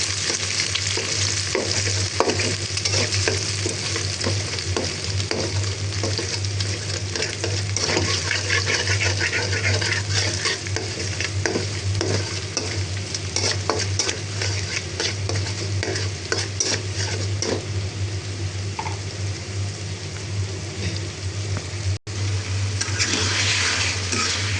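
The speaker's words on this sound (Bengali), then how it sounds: "এখানে চিচিঙ্গাটা ভাজা হচ্ছে" Snake gourd with egg fries in a pan, giving a continuous close sizzle with repeated stirring scrapes over the whole stretch. No one speaks.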